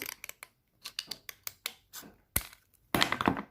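Scissors cut a metal rib for pottery sgraffito tools in a series of short, crisp snips and crunches in an irregular rhythm, close up, ending with a longer grinding cut.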